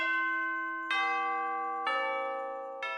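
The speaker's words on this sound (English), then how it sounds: "That's where I put in the bell sound." A resonant bell sound effect rings three times, each strike followed by a long ringing decay, spaced about a second apart with no talk.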